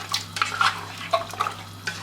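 A spoon stirs roasted crushed coriander into a pot of mutton curry, giving a few soft scraping and clinking sounds with light wet sloshing, close and fairly quiet against a steady low hum.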